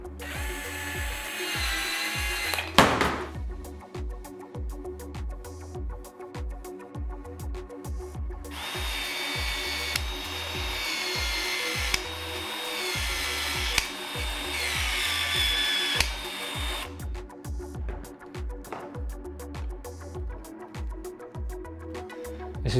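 A Milwaukee M18 VLD expansion tool working Uponor Q&E plastic pipe runs with a rapid, rhythmic mechanical chatter and repeated whirring bursts that rise and stop, loud and close, cycling steadily over the span.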